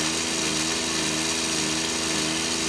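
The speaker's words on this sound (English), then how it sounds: "just now when I run the motor, you see and listen" A hoverboard brushless DC motor driven by a ZS-X11H controller runs at a steady speed, giving a continuous close electric whir with layered tonal hum and no speech.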